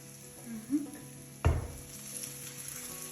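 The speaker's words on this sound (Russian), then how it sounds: "И вот такими небольшими блинчиками я буду обжаривать до золотистой корочки" Zucchini pancake batter goes into a hot pan with a sudden burst of sizzle, then a quiet, steady fry with faint pan clinks, close and low in level.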